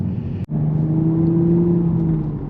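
A manual Toyota MKV Supra cruises in fourth gear, its engine holding a steady, close droning hum inside the cabin, broken by one brief dropout near the start, with no talk.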